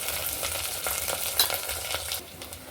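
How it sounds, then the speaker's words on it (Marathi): Paneer masala sizzles in a pan as it is stir-fried with red chilli and black chilli powder, a steady hissing fry with a rhythm of scraping stirs, close and with no talking. "त्याच्यामध्ये 1 चमचा लाल तिखट आणि 1 चमचा काळं तिखट पण घालून घ्यायचं आहे."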